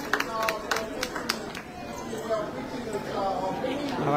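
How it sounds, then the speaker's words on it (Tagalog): Fans welcoming SB19 on their arrival in New Zealand, clapping in a crowd. A burst of distinct claps comes at the start, then fades into crowd chatter and nearby talking. "Palakpak tayo, palakpak tayo."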